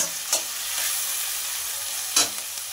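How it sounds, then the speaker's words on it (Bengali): Chopped onion and tomato fry in hot oil with a steady broadband sizzle, marked by two sharp scraping stirs, close and fairly loud, with no talking. "আর দেব একটা টমেটো কুচি, দিয়ে সব কিছু তেলের মধ্যে ভেজে নেব"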